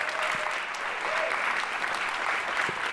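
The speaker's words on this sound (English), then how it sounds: "Claire, give Claire a round of applause" Audience at a jazz festival breaks into sustained, dense applause, a full crowd clapping close and loud for a few seconds.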